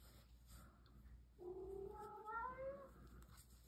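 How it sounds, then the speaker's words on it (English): A pet cat gives one drawn-out, wavering meow near the microphone, rising then falling in pitch over a quiet room hum. "That's my kitty."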